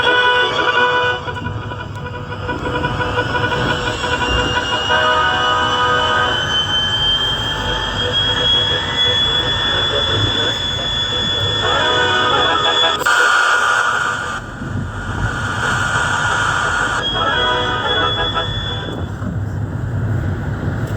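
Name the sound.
train roaring past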